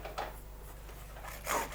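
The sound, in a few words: sanding cut horn with sandpaper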